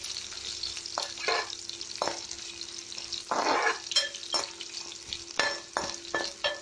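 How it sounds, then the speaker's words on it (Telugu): Ginger fries in hot oil in a pan for ginger pickle, a soft sizzle broken by repeated scraping stirs of a spoon. It is close and moderately loud, with no voices. "ఇలా వేగాలన్నమాట ఆయిల్లో మొత్తం."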